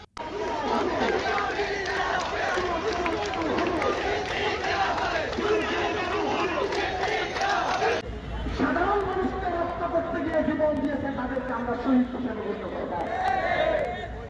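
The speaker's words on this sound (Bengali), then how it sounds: "সিএমপি কার্যালয়ের মূল ফটক ঘেরাও করে স্লোগান দেন আন্দোলনকারীরা" Protesters chant slogans outside the main gate of the CMP police office in Chittagong, a loud, continuous crowd roar of massed voices with rhythmic shouted calls throughout, shifting in texture partway through.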